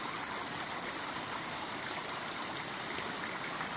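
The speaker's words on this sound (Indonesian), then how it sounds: "Di sini ada sungai buatan" Water from a man-made stream at a hidden-village resort flows steadily, a continuous close rushing and trickling that stays even throughout, with no talking over it.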